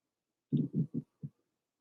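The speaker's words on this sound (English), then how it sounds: "Notice your heartbeat." Four soft, low thumping beats of a heartbeat, close and isolated, in a quiet setting, with a brief pause before the last beat.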